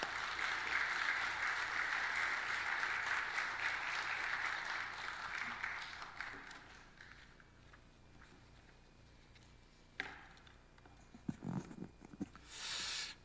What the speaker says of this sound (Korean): 오실 때 격려하는 박수로 목사님 환영했으면 좋겠습니다